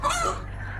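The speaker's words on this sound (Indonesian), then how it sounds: "Ayam nih." A single short, harsh chicken call close by, a quick squawking cluck that fades after a moment.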